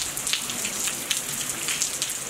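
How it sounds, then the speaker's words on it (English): Heavy rain falls in Las Vegas, a dense, steady hiss of drops hitting surfaces, loud and close with no voices. "Does it normally rain this much?"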